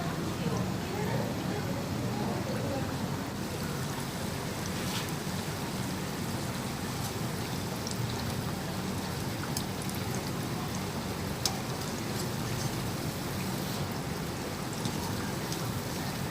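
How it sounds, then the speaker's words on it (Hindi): Beef qeema kachoris frying in hot oil in a wok, a continuous broad hissing bubble held at steady loudness, with a voice talking over it. "तो अब हम इसमें कचौरियाँ डालते जाएंगे।"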